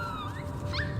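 Dog whimpering in the video game Never Alone: a few short, high, rising whines near the end over a steady low game soundtrack, with no talk.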